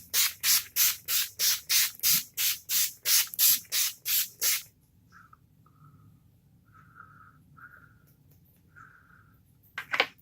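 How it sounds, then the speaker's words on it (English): A bottle of makeup setting spray fires about a dozen quick, evenly spaced hissing pumps up close. The pumps are followed by a quiet stretch with only faint background tones. "Okay, I have my setting spray."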